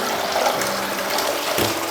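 Water gushing steadily from a shower head under test after the tap is opened, a loud continuous hissing spray with no speech.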